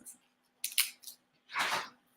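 Homemade nettle and plantain chips are bitten and chewed up close, with a few sharp crisp snaps followed by a longer dry crunch, all quiet between bites and without talking.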